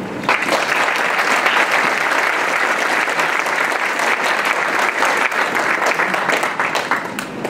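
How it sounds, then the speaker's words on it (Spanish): Loud, sustained applause from an audience at a book presentation for a macroeconomics title at a university, a dense steady clapping that fills the whole stretch without pause. "Brindémosle un fuerte aplauso"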